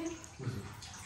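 Water running from a leaking tap, a steady faint splashing trickle that carries on through the whole brief moment.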